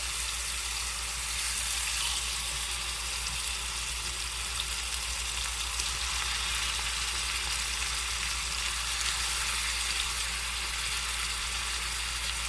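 Deer tenderloin sizzles in a frying pan with a steady, close crackle of fat that holds at an even level throughout, and no one speaks.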